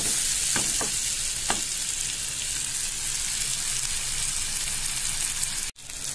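Onions sauté in a pan for a karapodi milagu kuzhambu, a loud, even crackling sizzle close by. A few sharp pops come early and a brief dropout near the end, with no voices.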